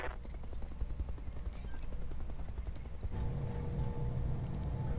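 Rapid, steady bursts of machine gun fire from a mech in the Roguetech BattleTech mod, rattling continuously under a low engine rumble that thickens partway through.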